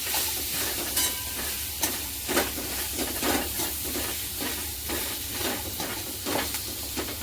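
Spiced potato masala filling for cheese masala dosa being stirred in a hot pan, repeated scraping strokes of a spatula over a continuous sizzle, close and moderately quiet.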